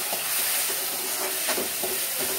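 Onions frying in a pan for sambhar, cooked until golden brown: a steady, close, broadband sizzle and hiss with faint crackles running throughout, no speech.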